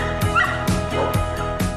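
Dogs at a pet grooming salon in Greece bark in a quick regular series of about five sharp, close yips and barks over a light background.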